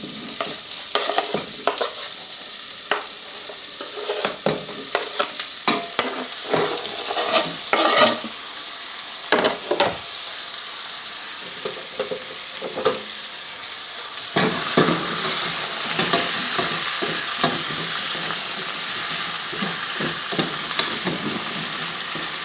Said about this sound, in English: So that's nicely sizzling away.